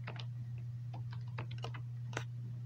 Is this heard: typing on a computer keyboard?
yes